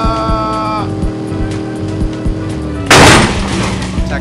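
A car in a video game drives with a loud, steady engine drone whose pitch shifts, with sharp impacts and a sudden burst of harsh noise near the end.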